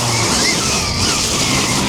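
Enduro dirt bike, an electric Stark against a two-stroke, skidding under hard rear braking with a loud, close, continuous tire scrub and engine noise through the short burst.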